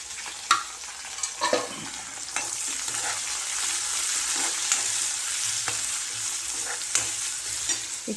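Raw tomato vegetable fries in a pan with a steady close sizzle, broken by repeated scraping stirs and light utensil knocks throughout.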